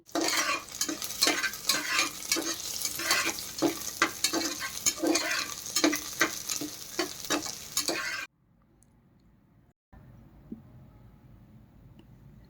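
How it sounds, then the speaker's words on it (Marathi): Onion sizzles in a pan with curry leaves and green chili while a spoon stirs it in brisk rhythmic scrapes and clicks over a loud frying hiss. The sound stops abruptly, leaving a faint room hush. "आता त्यात मी कढीपत्ता आणि मिरची टाकते व चांगली परतवून घेते"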